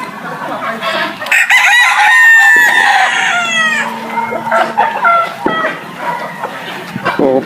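White gamefowl roosters at the White Jacket Game Farm crow loudly and close, overlapping long calls followed by shorter crows and clucks.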